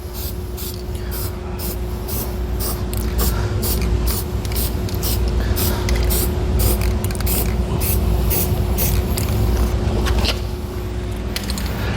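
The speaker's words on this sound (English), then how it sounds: "So just a light coat on that exposed metal should be just enough." Spray paint coats exposed metal during a fifth wheel underbed hitch installation on a 2022 Ford F-250 Super Duty: a continuous close hiss with faint rapid clicking and rattling.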